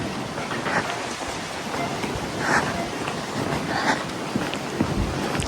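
Strong wind roars loud and constant outdoors in stormy weather, a broad rushing noise with slight gusty swells throughout.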